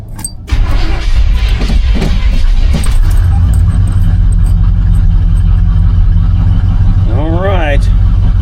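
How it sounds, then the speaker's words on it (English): An old vehicle engine cranks and catches on a morning cold start, a loud rumbling idle that then runs on steadily up close, with a brief rising whine near the end. "So let's see if this old girl will start this morning."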